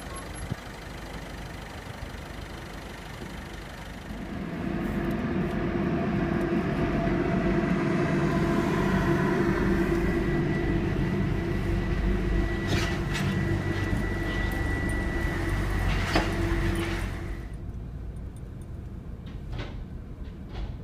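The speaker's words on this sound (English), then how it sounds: "We're on the train now. Off we go. Folkestone bound" A cross-Channel shuttle train bound for Folkestone, heard from inside a vehicle on board, rolls into a steady low rumble after a few seconds of quiet, holds for about twelve seconds, then eases off near the end.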